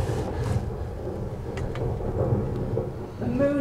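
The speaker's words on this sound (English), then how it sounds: "The storm's coming!" A thunderstorm sound effect in a community theatre play rumbles steadily throughout, loud rolling thunder with a rain-like wash, ending with a brief tonal sound.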